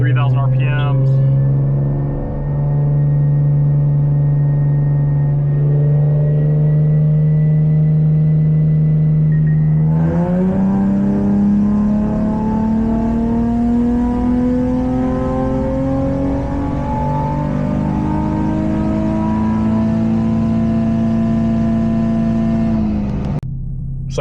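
An Infiniti car engine revs in 4th gear on a dyno, a loud continuous drone climbing steadily in pitch, easing briefly at a shift point, then rising again until it cuts off sharply.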